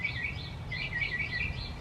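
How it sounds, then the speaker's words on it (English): Several small birds chirp and tweet outdoors in a steady, rhythmic pattern of repeated high calls over a low background rumble, moderately close and continuous. "Oh, the birds are saying hi too."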